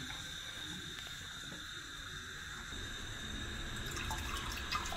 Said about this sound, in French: Alors je vais procéder au rinçage du riz. Il faudra rincer au moins 3 fois pour retirer l'amidon.